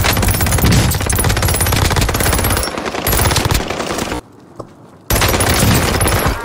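Dense rapid gunfire rattles loudly through a squad-based shooter video game battle, near-continuous bursts with a brief lull before the shooting resumes.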